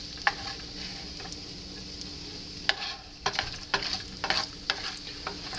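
Bacon frying in a pan, a steady close sizzle with occasional sharp pops and scraping stirs.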